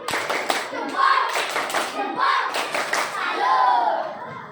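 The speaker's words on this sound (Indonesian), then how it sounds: "Yang lainnya kasih tepuk salut untuk Bapak Bang Is." Schoolchildren in a classroom perform a rhythmic group clapping routine, bursts of many hands clapping in patterned beats with children's voices chanting along.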